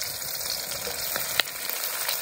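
Chopped onion, tomato and capsicum fry in coconut oil in a pan, giving a continuous soft sizzle with a faint clink partway through, close and steady without voices.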